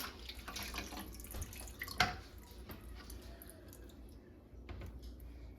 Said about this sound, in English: So you drain them and then rinse them out.